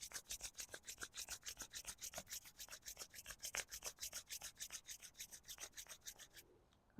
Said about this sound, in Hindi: दोनों हाथ को अच्छे से रब करें